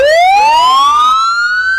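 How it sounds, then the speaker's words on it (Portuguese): A studio-played siren sound effect gives one loud, close electronic wail that rises in pitch over about two seconds, with no voices. "Solta a sirene"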